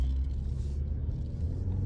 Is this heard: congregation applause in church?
no